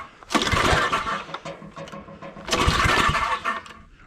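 A Roto-Hoe tiller's small engine cranked twice at full throttle with the choke on, each pull a loud sputtering burst lasting a second or more that dies back down, heard close up with no talking.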